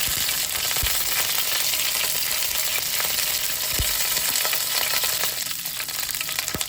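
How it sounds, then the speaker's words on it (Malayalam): Fish frying in hot oil with curry leaves in a pan, a loud continuous sizzle and crackle that stays close and steady throughout, with a few soft low bumps. "എന്നിട്ട് നമ്മൾ അതിൻ്റെ മേളിൽ നമ്മുടെ മീൻ ഇങ്ങനെ ഇട്ടെടുക്കുകയാണ്"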